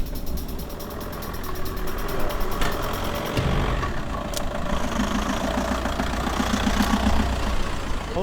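An old car engine runs continuously at a rough idle, a low uneven rumble with knocking pulses and a few sharp clanks, fairly loud and steady, no voices.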